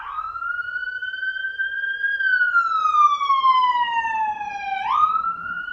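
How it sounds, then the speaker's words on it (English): A police siren wails close and loud, holding a steady tone, then sliding downward and jumping back up, with no talking over it. "Can you play your sirens somewhere else, please?"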